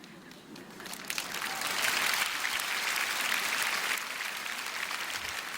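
Applause from a church prayer-meeting congregation, a sustained wash of many hands clapping that swells after the first second and holds steady before easing slightly, filling the hall with no voice on top.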